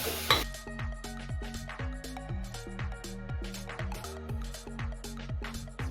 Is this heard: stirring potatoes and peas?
yes